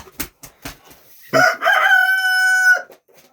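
A few short clucks from a hen, then a rooster's loud, drawn-out crow close by that rings for over a second before fading.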